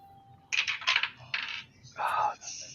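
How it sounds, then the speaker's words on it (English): Small dice clatter down through a new dice tower in several quick, bright rattling bursts, followed by a final tumble as they land in the tray, close and fairly quiet. "I'm gonna use my new dice tower today."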